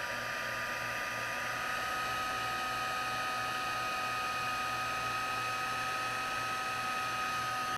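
Heat embossing tool blowing steadily to melt copper embossing powder for a faux metal effect, a continuous broadband whoosh with a constant motor whine, fairly close and unbroken throughout, with no talking.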